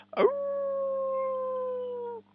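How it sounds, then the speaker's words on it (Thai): A single dog lets out a long, steady howl, starting with a brief rough burst and then holding one clear sustained tone for about two seconds before cutting off, close and alone. "แค่ได้ยินเสียงหมาหอน"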